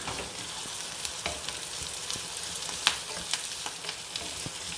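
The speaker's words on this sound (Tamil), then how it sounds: "கருவேப்பிலையும் சேர்த்துக்கலாம்." Small onions and curry leaves fry in oil in a pan, making a steady close sizzle broken by a few sharp crackles and pops.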